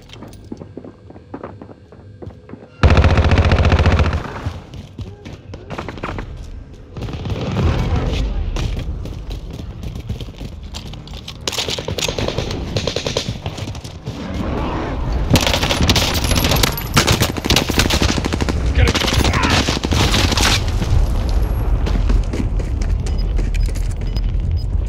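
SMG fire in Call of Duty Warzone during a Godzilla vs Kong themed match, loud bursts starting after a quiet opening and running through the rest of the clip, mixed with footsteps, booms and dense battle noise.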